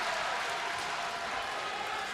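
Loud, dense roar of a wrestling arena crowd at an AEW Dark show in Nashville, a steady broadband wall of cheering and applause with no lulls.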